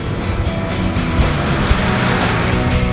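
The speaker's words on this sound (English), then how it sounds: "Floored from a stop, and the front tires struggle for grip." A 2012 Volkswagen Passat with a VR6 engine and DSG twin-clutch gearbox floored from a standstill, front tires struggling for grip, giving a loud, steady engine roar throughout with no voices.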